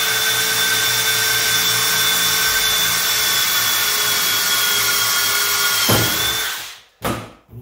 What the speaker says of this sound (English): I just want to take a drill now and